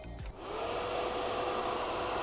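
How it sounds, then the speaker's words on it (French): Cooling fan on a 2020 Husqvarna 701 Supermoto switched on by hand, blowing as a steady, close whooshing hum after a brief click at the start, with no talking. "J'ai rajouté un interrupteur juste ici qui déclenche le ventilo à volonté."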